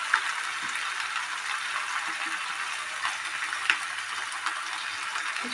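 Jackfruit and prawn curry sautéing in a pan, with a continuous bright crackling sizzle and occasional stirring scrapes, close and steady with no voices.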